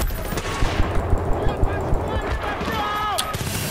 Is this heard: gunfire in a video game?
yes